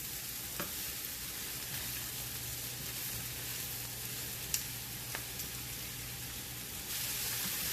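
Spinach, caramelizing onions and mushrooms sauté in a pan, a steady even sizzle that fills the whole stretch, with a couple of faint clicks and a low hum, and no talking.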